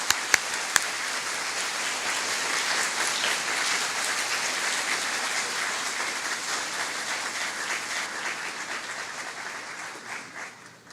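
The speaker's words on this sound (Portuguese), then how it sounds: "a quem recebemos, então, com nossos aplausos." Lecture audience applauding to welcome a speaker to the stage, sustained dense clapping from a large crowd in a hall, a few sharp taps at the start, fading gently toward the end without talk.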